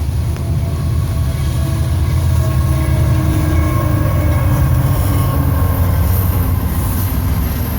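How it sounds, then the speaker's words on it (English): A train rolls past close by, a loud continuous rumble of railcars and wheels on track with faint metallic squealing, steady for the whole stretch. "we're getting a train coming through"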